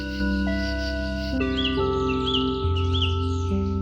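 Calls of endemic Borneo birds in a Kalimantan forest, with short chirping whistles repeating over steady sustained musical tones throughout.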